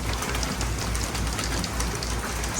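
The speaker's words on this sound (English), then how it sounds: "wonderful to hear rain falling from the sky" Heavy monsoon rain pours down in a dense, steady hiss of drops, loud and close, with no talking.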